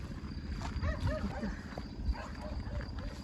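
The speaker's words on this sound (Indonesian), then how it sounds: "Anjingnya pada menggonggong." Dogs barking outdoors at a rural home under renovation, several short yelping barks scattered through the clip over a steady background of motor or engine rumble, moderately distant.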